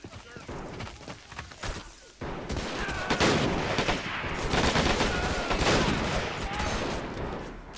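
Rifle gunfire crackles in bursts and rapid volleys during a battle in the video game Army Men of War, dense and irregular over a few seconds, with a voice speaking over it.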